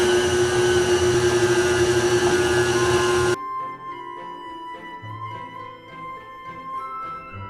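An electric mixer beats eggless cake batter with dates and sultanas, giving a loud, steady whirring drone for a few seconds before cutting off abruptly, followed by quieter clinks and light handling sounds.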